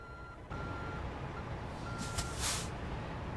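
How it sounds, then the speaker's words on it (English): A truck's backup beeper sounds in steady, thin repeated tones over a loud rumbling idle, with a brief hiss of air midway. "Get the backup beeper off."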